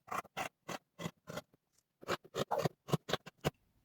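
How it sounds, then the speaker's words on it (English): Scissors snip through hoodie fabric in a run of crisp, close cuts, about a dozen rhythmic snips with a brief pause midway, no talking. "I'm going to cut slightly above where the pin was"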